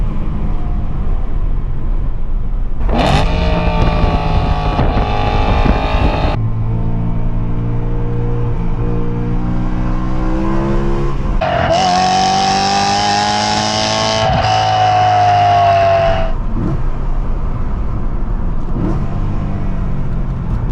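A BMW E92 M3 sweeps through a sharp turn with a loud, steady engine drone up close that rises and falls as the driver works the throttle, with a faint tire squeal through the bend and no talking.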